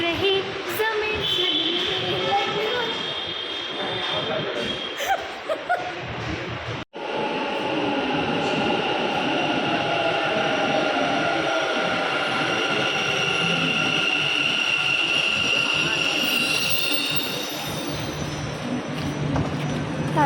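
Steady rumble and rattle of a metro train in motion, with high wheel squeal rising over the ride and a brief click partway through.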